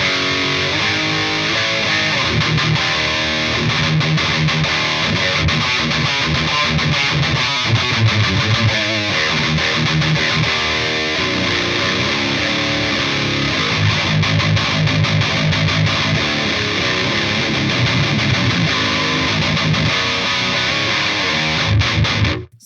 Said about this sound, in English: this one switches amp to the Marshall 2555 and also the Omega 6x12 cab here